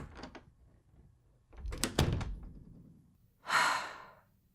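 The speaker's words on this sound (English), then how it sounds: "Don't forget to close the door on your way out." Door closing: soft breathing first, then a burst of knocking and bumping and a firm thud, followed by a brief loud whoosh near the end.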